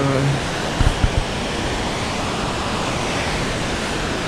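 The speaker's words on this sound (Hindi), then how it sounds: "यहाँ पर शोर जो है वाटरफॉल का बहुत ज़्यादा है" Manthokha waterfall near Skardu roars as a steady, dense wash of heavy falling water that fills the whole scene without letup, with a brief voice and a few soft knocks near the start.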